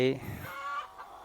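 A chicken gives a short clucking call near a backyard farm coop, close and fairly loud, tapering off quickly into quiet.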